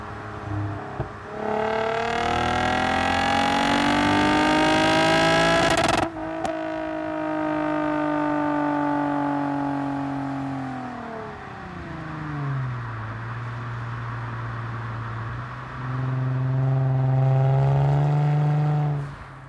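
Lexus IS350 engine with automatic transmission revving hard to the red line, rising strongly, holding there without upshifting, then dropping in pitch and surging again, loud and close from inside the car.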